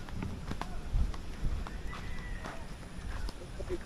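Hooves clop faintly from a horse nearby at a farm, a few scattered thuds over outdoor background noise and soft talk.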